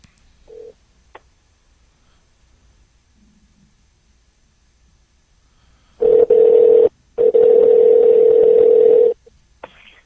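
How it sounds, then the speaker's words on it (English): A telephone line gives a steady tone in two long, loud stretches after a few faint clicks, heard while returning a call. "I'll go ahead and return the phone call"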